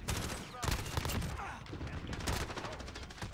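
Rapid automatic gunfire from the multiplayer mode of the video game Call of Duty Modern Warfare crackles in dense, overlapping bursts, near and steady throughout, with a voice faintly under the shooting.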